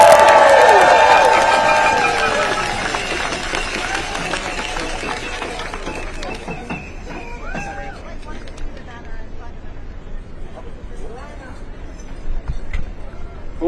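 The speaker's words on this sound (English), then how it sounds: "Let's give them a round of applause." A protest crowd against immigration enforcement in New York bursts into applause and cheering that starts loud and fades over several seconds into scattered claps and murmuring chatter, with people talking nearby.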